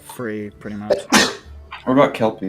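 A single sharp sneeze bursts out mid-conversation among several people chatting around a tabletop game, loud and close, with talk continuing right before and after it.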